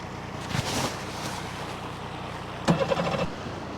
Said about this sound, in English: This motor started.